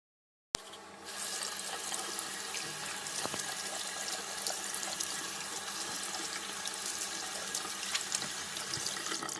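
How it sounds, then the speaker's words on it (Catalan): A tap turns on abruptly and water runs steadily into a sink as hands are washed, a constant close rushing flow with small splashes, no voices. "ens haurem d'anar a rentar les mans"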